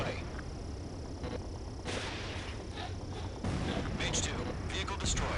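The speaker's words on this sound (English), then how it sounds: "Missile away." Missile launches and explosions in a combat video game, with heavy booming bursts and rumbling blasts over constant battle noise, with radio-style voices talking over the action.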